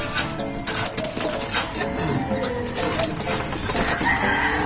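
Racing pigeons, young of clacker breeders, coo and flap their wings close by in a loft. Soft throaty coos mix with bursts of wing beats, with no voices present.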